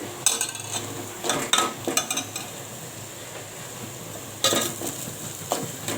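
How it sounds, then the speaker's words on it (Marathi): A spice masala with peanuts and garlic sizzles in hot oil in a large pot, with a constant frying hiss broken by bursts of metal spoon scraping and stirring against the pan. "शेंगदाणे लसूण वगैरे सगळं फ्राय झालेलं आहे तेलामध्ये"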